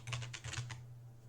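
A few quick keystrokes tap on a computer keyboard while renaming a layer in Autodesk Maya, close and clear over a low steady hum, then quiet.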